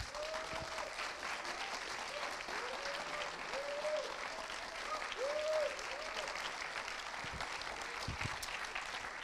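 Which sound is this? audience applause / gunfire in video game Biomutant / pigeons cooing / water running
audience applause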